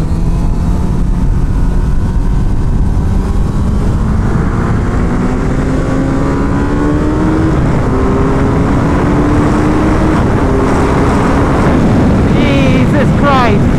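Suzuki Hayabusa motorcycle accelerating hard down the back straight of a race track, a loud continuous engine howl climbing in pitch through the gears with heavy wind buffeting on the microphone.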